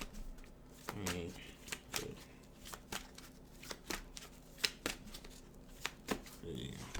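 Tarot cards being shuffled and handled, producing soft irregular riffles, taps and slaps spread across several seconds, with a person talking quietly in between.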